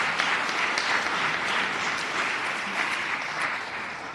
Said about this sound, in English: give them a round of applause because it's remarkable